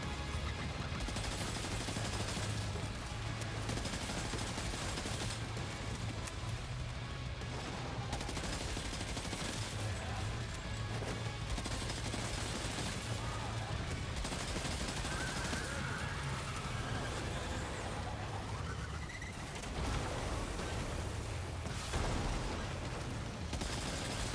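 Sustained machine pistol fire in the video game Death Stranding 2, dense and continuous throughout a boss fight, mixed with other combat noise and a low droning rumble underneath.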